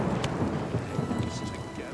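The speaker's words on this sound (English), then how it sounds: "That was in game. I was like, what was that thunder?" A low, steady rumble of thunder with rain pattering throughout from the video game Oblivion Remastered, a dense, continuous storm sound at moderate volume.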